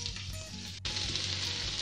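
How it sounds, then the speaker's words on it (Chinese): Chicken wings searing in a small amount of oil for lemon cola wings, a close, loud, continuous sizzle that briefly dips and then surges again; no talking. "就要给它先烤一下，或者说先煎一下"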